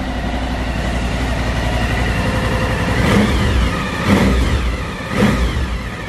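A 2018 Suzuki DL1000 ABS V-Strom motorcycle engine running just after starting, a loud close rumbling idle with three brief throttle blips rising and falling.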